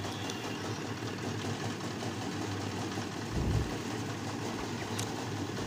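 A paddy threshing machine driven by an R175 engine runs steadily outdoors, its low mechanical drone continuous and fairly quiet, with a brief heavier thump partway through.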